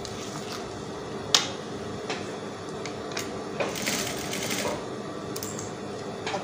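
A sewing machine attaching a yoke to a baby's ball dress runs in a soft, steady stitching hum with a few sharp clicks and taps along the way, fairly quiet and without talk.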